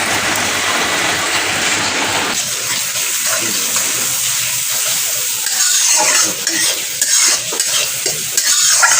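Heavy rain pouring down, a dense, loud, continuous hiss close by that thins slightly partway through into patterings and splashes.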